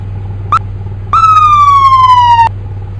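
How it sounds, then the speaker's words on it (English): A police siren in a Roblox video game gives a quick blip, then a longer wail that slides slightly downward and cuts off, loud over a steady low hum. "Cops, blip your sirens if you see this."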